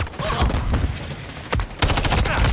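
Gunfire from Call of Duty Modern Warfare 3: dense rattling automatic bursts throughout, loud and close, with a sharp crack midway and a heavier burst of rapid shots near the end.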